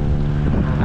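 Strong wind buffets the microphone during a motorcycle ride on a long bypass road, a loud, steady roar with low rumbling throughout the short moment.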